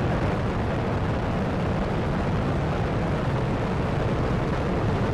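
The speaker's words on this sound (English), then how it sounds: "Booster ignition and liftoff of Shuttle Endeavour" Space Shuttle Endeavour's boosters ignite and the rocket lifts off in a continuous, dense, loud roar that rumbles steadily without a break.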